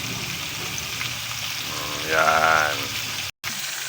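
Chicken seasoned with soy sauce and crispy fry mix sizzles steadily in a pan, a continuous close frying hiss, as a voice speaks briefly over it.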